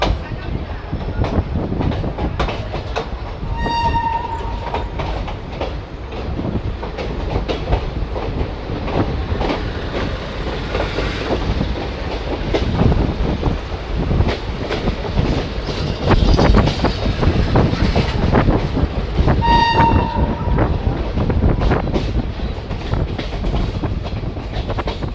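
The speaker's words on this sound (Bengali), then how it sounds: "আপাতত ট্রেন রামপুরহাট স্টেশন ছেড়ে বেরিয়ে যাচ্ছে।" Mayurakshi Express leaving Rampurhat station, heard from on board as a dense rolling rumble with rhythmic wheel clatter and two short horn blasts, one early and one later, all loud and continuous.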